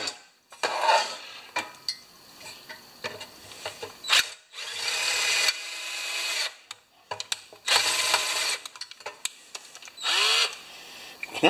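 Several short bursts of a power drill biting into metal rivets on a Briggs & Stratton Quantum rewind starter from a Craftsman mower, separated by clanks and rattles of tools being handled up close.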